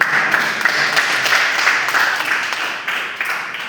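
A classroom group claps for a student's question during a teaching practice lesson: a short, dense burst of mixed hand clapping that carries on unevenly for a few seconds.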